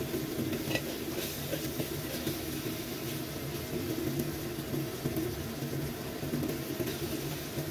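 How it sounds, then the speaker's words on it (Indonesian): Tofu frying in hot oil in a home kitchen, a steady dense sizzle with faint stirring and pan clatter throughout, fairly quiet and with no talking. "Digoreng setengah kering aja biar lebih punya rasa khas yang tersendiri."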